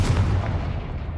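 Spell blast in Hogwarts Legacy: a short, heavy booming explosion with a rumbling tail, loud and close, no talk over it.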